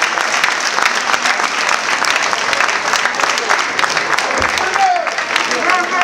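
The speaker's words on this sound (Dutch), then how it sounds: "Maak even een duidelijk applaus voor die meisjes die er niet bij zijn." An audience at a Miss Limburg pageant pre-selection gives sustained applause. The loud, dense clapping runs unbroken from start to finish.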